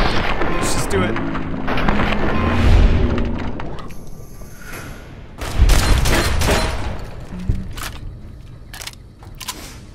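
Shotgun blasts in Fallout: New Vegas, a few heavy booming shots spaced seconds apart amid loud game action, with someone talking over much of it.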